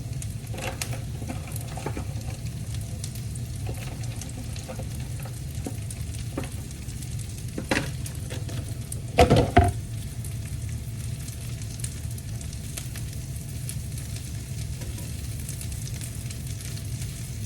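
Baby arugula being stirred into a hot pan for a breakfast strata, giving a steady close sizzle with a few sharper scrapes and clatters from stirring midway, no talking.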